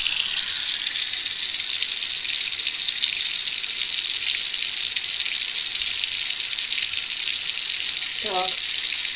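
Steady rushing water pours continuously from a tap into a bathtub drain, with a brief clink near the end.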